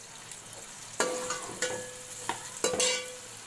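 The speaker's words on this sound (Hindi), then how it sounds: "ये 3 अदद प्याज हैं, इनको थोड़ा सा सौते करना है।" Three onions sautéing in two spoons of oil, a soft sizzle in the background punctuated by several sharp, ringing spatula knocks and scrapes against the pan at irregular intervals.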